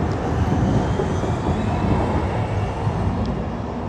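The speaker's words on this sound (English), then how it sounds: "Another tram." A tram rolls along a city street in Amsterdam, a steady loud low rumble with broadband rail noise holding throughout and no talk over it.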